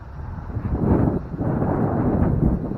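Outdoor wind in Winfield, Kansas buffets the microphone as a loud, steady low rumble that swells and holds without a break.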